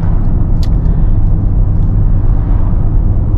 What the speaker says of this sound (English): the exhaust sound doesn't sound too loud